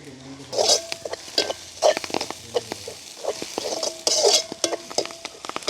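Onion and green chili with curry leaves sauté in a pan, a spoon scraping and stirring in bursts with metallic clinks against the pot over a soft background sizzle.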